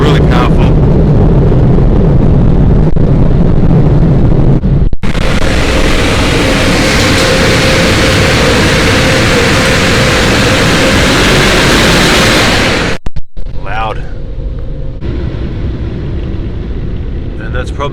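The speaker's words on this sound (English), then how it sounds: "so the air dryers are really powerful" Powerful air dryers in a touchless automatic car wash blast against a car, heard from inside the vehicle as a loud, roaring rush of air that runs steadily for several seconds, then cuts off abruptly, with quieter machinery before and after.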